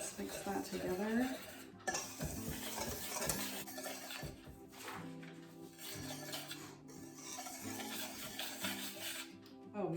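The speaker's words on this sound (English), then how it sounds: "Let's mix that together." Dry baking ingredients for gluten-free pumpkin cinnamon buns are stirred and scraped in a bowl, with repeated close utensil scrapes and clinks in uneven strokes, a few brief pauses between them.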